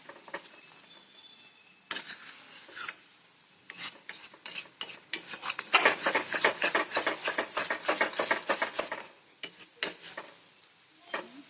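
A spoon scrapes and stirs mango semolina sheera in ghee in a kadhai, with quick clinking strokes that start sparse, then turn rapid and rhythmic before slowing, close and clear with no talking.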